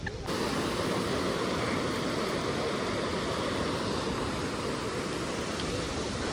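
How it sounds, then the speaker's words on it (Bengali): Steady broadband surf wash from sea waves breaking on the beach at Mandarmani, a continuous close roar with no distinct individual breakers and no voices. "দেখো সামনেই সমুদ্র"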